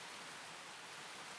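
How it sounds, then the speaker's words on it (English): Gentle rain falls steadily in the video game Fate/Extra, a soft, even hiss of drops with no other sounds, heard alone. "A gentle rain begins to fall."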